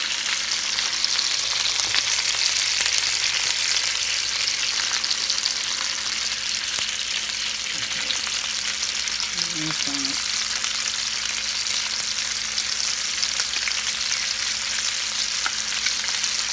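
Onion and garlic fry in a pan for chicken curry, a loud, steady, close sizzle with a few faint stirring scrapes and no talk.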